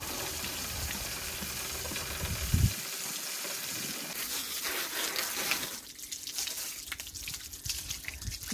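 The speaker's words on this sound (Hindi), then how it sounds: "अभी पानी डाल के इस चैन को धोएंगे और पूरी बाइक को धोएंगे।" Water pours and splashes onto a Hero Xpulse 200 motorbike chain during a wash, a faint continuous trickle with a brief louder gush partway through, then quieter patchy dribbling.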